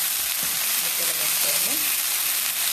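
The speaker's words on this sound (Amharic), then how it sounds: "ዶሮውን በዚህ መልኩ የተጠበሰ ነው።" Chicken pieces fry in hot oil in a pan, a steady close hiss of sizzling with faint stirring scrapes, and a voice murmuring briefly underneath.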